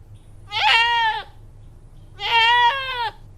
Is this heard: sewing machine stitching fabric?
no